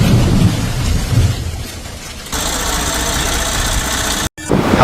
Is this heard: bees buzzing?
no